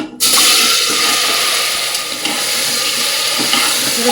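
Mutton sizzles loudly in mustard oil inside a pressure cooker, a dense continuous hiss and crackle starting abruptly as the meat hits the pan and holding steady close up.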